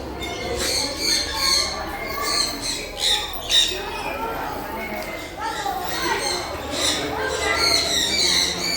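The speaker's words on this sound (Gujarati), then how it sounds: "મસ્ત મસ્ત પોપટ છે નાના નાના." Small parrots in a garden aviary at Nagarvan nature garden in Surat give sharp, repeated squawks and chirps, fairly close, mixed with people talking nearby.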